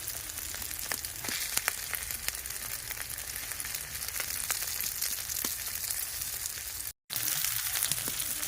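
Chopped tomato hits a hot frying pan with ground coriander, cumin and ginger paste, giving a steady close sizzle and crackle with scattered pops, briefly cutting out for a moment before resuming.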